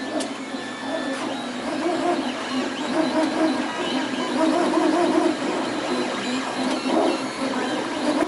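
A 3D printer working steadily in a library creation space, a continuous whirring hum with shifting stepper-motor tones that rise and fall, heard alone at close range.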